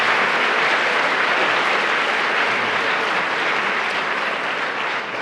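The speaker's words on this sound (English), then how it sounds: "A final genuine round of applause for Tim Harford." Audience applause for a speaker at a live London talk event, with a full, dense wash of clapping from a large crowd that stays loud and even throughout.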